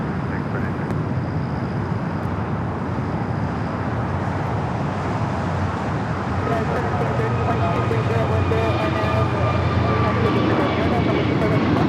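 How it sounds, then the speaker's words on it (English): An American Airlines Airbus A321neo jet taking off at Los Angeles LAX, a loud, steady engine roar that builds and holds throughout with rising whining tones, with distant traffic noise underneath. "Next takeoff, American Airlines Flight 2103 heading to Dallas Fort Worth, Texas, at A321 Neo."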